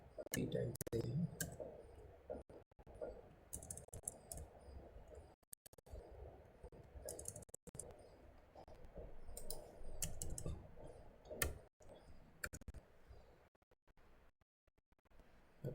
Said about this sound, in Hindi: तो हम पी टाइप देते हैं,